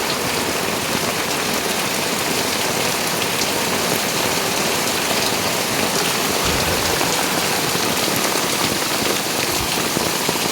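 Steady, dense rain pours outdoors during jasmine planting, a continuous close hiss of drops striking leaves and ground with no pauses and no voices.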